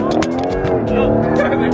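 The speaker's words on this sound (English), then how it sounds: "Hard brakes." A Porsche brakes hard on a race track. The engine note drops in a short, loud, close burst with a hint of tire noise, and someone talks over it.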